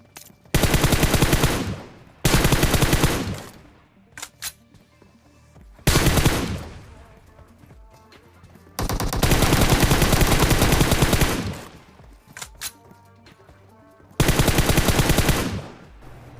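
Gunfire in a battle royale video game comes in several long automatic bursts of rapid shots, loud and close, separated by short quieter gaps with distant scattered shots.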